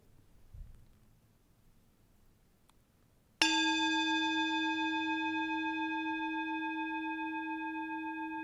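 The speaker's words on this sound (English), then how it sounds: "As we follow the sound of the bell into silence" A single bell is struck once to open a Unitarian Universalist Sunday service, ringing out with a bright metallic attack and then a long, clear tone that slowly fades, after a quiet stretch of faint room noise.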